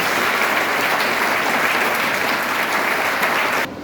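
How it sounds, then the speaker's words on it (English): Dense, sustained applause from a large audience at a Krishna Janmashtami celebration, honoring children and teachers after their program; steady and loud throughout before cutting off abruptly near the end. "So let us give them also a big round of applause"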